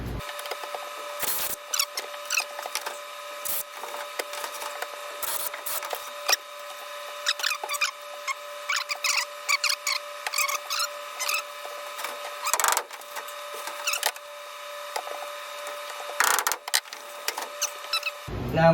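Wooden dowels coated in glue being driven into old screw holes in a leaking roof, a series of close, sharp knocks and taps in uneven bursts over a steady background hum, with no talking.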